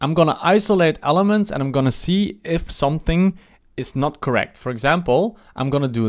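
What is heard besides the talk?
No distinct noise like a dog, phone or traffic.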